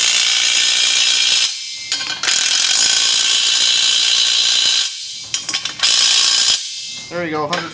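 A torque wrench ratchets loudly and steadily as a bolt is tightened to 100 foot-pounds, with the harsh, dense clicking broken by a few short pauses and a brief voice near the end.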